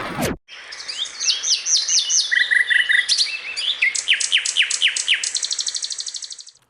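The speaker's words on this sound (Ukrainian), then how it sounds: "ми вирішили замінити оригінальний звук на солов'їний спів" A nightingale sings clearly and close, a varied sequence of rapid trills, whistles and repeated chirping phrases, heard alone against near silence.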